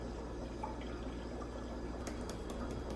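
A thin stream of lime juice trickles and drips into a bowl nearby, with a few small clinks near the end against a steady low background hum.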